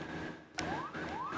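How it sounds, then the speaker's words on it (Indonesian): An ambulance siren wails as it carries a pregnant patient through traffic in West Jakarta, its rising electronic sweeps repeating quickly and loudly over a brief burst of street noise. "Padahal sopir ambulans sudah menyalakan sirine dan lampu rotator."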